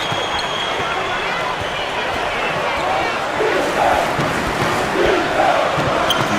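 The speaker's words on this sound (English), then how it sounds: "Crowd on their feet, standing for their defense." Crowd noise in a simulated Kansas–Ohio State or North Carolina–Memphis college basketball game, a steady dense roar of fans that swells louder in the second half as they rise for the defense, with an announcer's voice talking over it.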